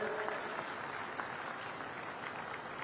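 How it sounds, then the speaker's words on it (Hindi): A crowd at a women's conference rally in Bhilai claps loudly and steadily throughout, a dense continuous wash of applause welcoming a guest. "एक बार जोरदार ताली बजा के उनका स्वागत करें,"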